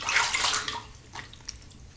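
Tap water running and splashing as a face is rinsed after a shave with a Schick Injector razor: a loud, close splashing rush at first, then fading into scattered drips and small splashes.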